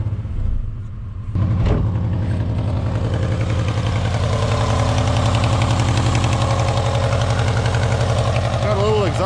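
A Subaru Legacy engine cranks and catches, then settles into a steady, loud idle with a rough mechanical rumble and a small exhaust leak; voices murmur faintly underneath.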